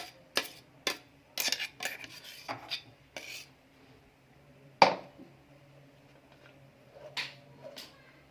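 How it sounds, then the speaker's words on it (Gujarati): A spoon stirs crushed raw mango juice into sugar syrup in a pot, giving quiet intermittent scrapes and metallic clinks with pauses between, plus one sharper knock. "ચાસણીની અંદર કાચી કેરીનું ક્રશ કરેલું જ્યુસ મિક્સર અંદર કરીએ"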